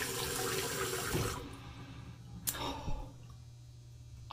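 Water runs from a tap to wet shaving soap for lathering: a broad, steady rush for over a second, then quieter with a few brief splashes and clinks nearby.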